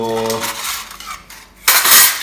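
Plates are handled at home during breakfast: a brief ringing metallic clink, then quieter shuffling and a sharp clattering scrape of dishware at the end, close and loud.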